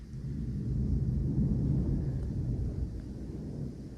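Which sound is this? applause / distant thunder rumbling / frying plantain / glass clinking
distant thunder rumbling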